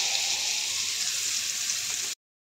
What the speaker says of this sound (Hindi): तड़का लगा देंगे।